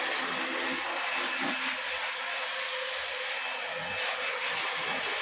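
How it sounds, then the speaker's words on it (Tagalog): A technician's air blower roars with a steady, loud, unbroken hiss of rushing air throughout. "Technician namin nag blower para matanggal ang aliw."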